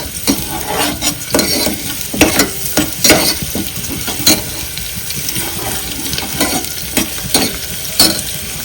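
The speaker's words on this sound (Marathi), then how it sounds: "आपल्याला कांदा एकदम परतून घ्यायचा आहे, लालसर भाजून घ्यायचा आहे." Onions fry loudly in a pan until reddish while a spoon stirs them in repeated sharp scrapes and clinks over a continuous hiss, with no talk.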